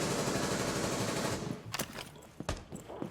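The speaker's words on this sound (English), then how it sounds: "Ella did get a massive buff to that Scorpion, practically making it so there is zero recoil whatsoever" Rapid bursts of submachine gun fire from a Scorpion in a competitive video game match: a dense continuous stream of shots at first, then scattered short bursts and single cracks.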